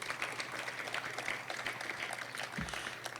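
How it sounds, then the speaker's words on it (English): Audience applause at a high school ground breaking ceremony, a steady wash of clapping from a crowd, moderately distant and even in level throughout. "Let's give them all a round of applause."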